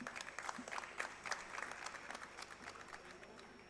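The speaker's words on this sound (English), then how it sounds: "Please give a huge round of applause for all our panelists." Audience at a national conference of chartered accountants applauding the panelists, a faint, steady wash of clapping from a crowd heard from a distance, fading slightly toward the end.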